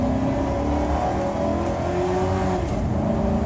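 A car accelerates up a highway on-ramp toward a construction zone. The engine drone is steady and close, with a slowly rising pitch as it builds speed.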